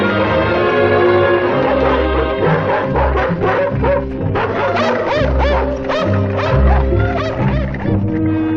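Dogs bark and yip repeatedly at close range, loud and busy, with some voices mixed in.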